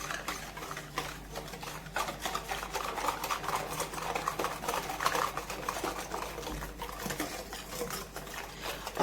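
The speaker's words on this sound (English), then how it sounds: "Now I'm going to use a whisk to mix everything together" A whisk beats melted margarine and vanilla in a bowl for Jamaican Easter bun batter, making rapid, steady clicks and taps against the bowl, close and continuous, with no talking.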